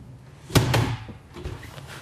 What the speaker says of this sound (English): Door locks into place.